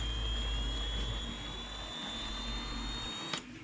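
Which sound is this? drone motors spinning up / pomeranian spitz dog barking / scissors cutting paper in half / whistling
drone motors spinning up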